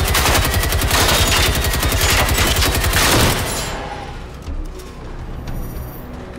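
Gunfire in the video game Generation Zero, a fast, loud, sustained burst of automatic fire for about three seconds that cuts off abruptly, followed by quieter ambient noise and a faint thud.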